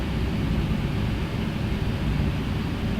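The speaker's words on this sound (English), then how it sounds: "So yeah, let's power up the engine." Boeing 737-800 engines powering up for takeoff from Glasgow International Airport in Flight Simulator X, a steady, loud, broadband roar that holds constant throughout with no voices over it.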